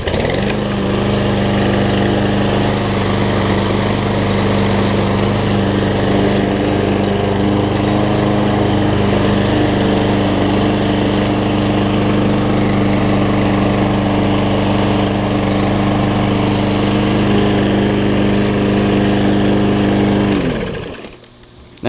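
A petrol lawn mower with an automatic choke in its carburettor starts and runs, a loud, steady close-up engine drone with a firm throbbing note that holds for about twenty seconds before cutting off abruptly at the end.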